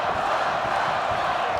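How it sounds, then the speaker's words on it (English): A wrestling crowd at a live independent match roars steadily, a dense, sustained wall of cheering and rallying shouts with scattered whoops, close and loud throughout without pause. "Listen to this crowd rallying behind Puff."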